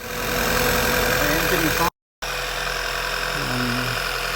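A 2010 Volkswagen Passat B6 engine idles steadily with a low, continuous rumble, briefly cut off by a short gap of silence before resuming at the same level.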